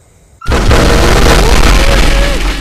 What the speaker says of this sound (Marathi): 1-2 सेकंदात सगळे फुटले बॉम्ब